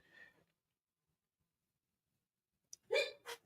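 A short, sharp sneeze-like burst near the end follows a long silence, preceded by a quick intake; faint breath earlier, no talking.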